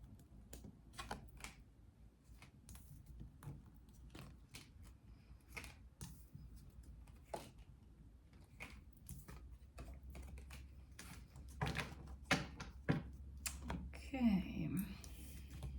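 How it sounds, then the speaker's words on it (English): Tarot cards being shuffled during a reading, a run of soft, quick riffling clicks and slaps close by over a faint low background hum. "Let's give these a little bit of a shuffle"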